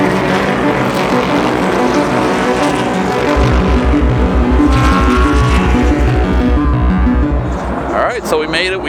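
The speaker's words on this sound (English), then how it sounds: "You can hear the cars already racing behind me." Race cars at the 2022 Rolex 24 at Daytona endurance race roar past on the track, loud continuous engine drones rising and falling, with a person talking over the noise.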